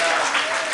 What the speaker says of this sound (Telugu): చప్పట్లతో దేవుని స్తుతిద్దామా.